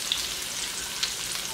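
Native chicken for adobo frying in a pan, a loud, even, hissing sizzle that runs throughout with a couple of faint crackling pops.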